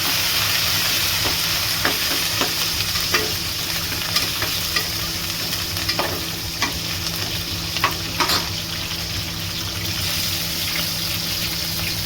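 Dried red chillies, shallots and curry leaves fry in hot oil for a fish curry. A steady loud sizzle continues throughout, with occasional stirring clicks and scrapes and no talking over it.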